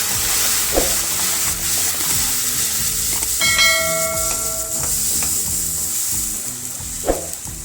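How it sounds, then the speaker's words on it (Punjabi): Tomatoes added to a hot tadka for halwa kaddu sabzi sizzle and hiss steadily and loudly, with the occasional clank of a stirring spoon against the pan. "ਟਮਾਟਰ ਪਾ ਦਵਾਂਗੇ ਟਮਾਟਰ ਪਾ ਕੇ ਮਿਕਸ ਕਰ ਦੇਵਾਂਗੇ ਤੜਕੇ ਨੂੰ"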